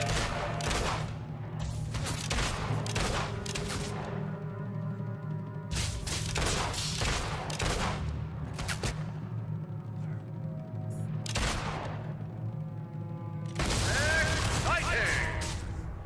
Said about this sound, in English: Oh yes, you can tell she practices her shooting